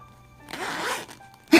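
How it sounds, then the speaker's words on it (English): A bag zipper is pulled open in one quick close-up rasp lasting about half a second, followed by a brief rustle, during an Amazon package unboxing with no talking. "I wanted you guys to hear the zipper"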